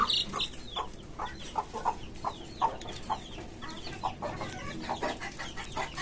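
Hens clucking in short repeated bursts on a poultry farm, with faint high peeping of chicks raised with them scattered through, close by and steady, no talking.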